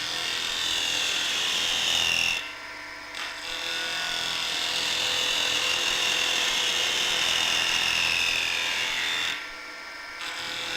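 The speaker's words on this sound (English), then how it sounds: "we use the tool to cut across end grain, taking a series of light cuts to round over one end of this square stock" A Robert Sorby Spindlemaster takes a series of light cuts across the end grain of square wood stock on a lathe, giving a steady, close scraping hiss with two brief pauses between passes.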